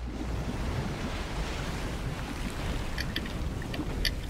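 Waves and lapping water from the Fortnite video game wash in a constant, fairly loud rush, with a few faint digital chirps near the end and no speech.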